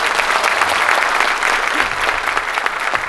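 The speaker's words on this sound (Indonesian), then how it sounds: "Kita berikan tepuk tangan lagi, ya." Audience applause at a speech event in Indonesia, a loud, dense clapping that holds steady for about three seconds, close and continuous.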